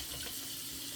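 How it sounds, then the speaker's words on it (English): Water running from a kitchen tap into a container being filled with water for a crock pot, a steady, even rush of flow with no talk over it. "I'm just going to fill this up with water"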